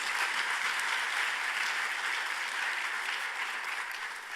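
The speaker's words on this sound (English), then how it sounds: "So please, please give her a warm round of applause." Steady, dense applause from an audience at a political leadership forum plenary, welcoming a youth ambassador, holding at an even, full level throughout before easing slightly at the end.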